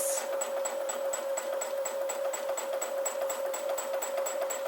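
A sewing machine free-motion quilting a fabric sandwich, stitching in a fast even rhythm of regular needle strokes with a steady motor whine, close and moderately loud with no talk.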